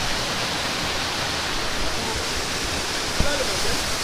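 Otso Otso falls in a secluded spot in Bulacan roars as a steady, dense rush of falling water, loud and unbroken, with one brief knock near the end and no clear voices.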